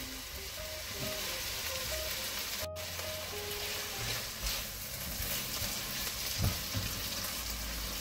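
A sofrito of chopped garlic, green pepper, red pepper and celery fries in a pan, giving a steady, soft sizzle with faint scattered clinks.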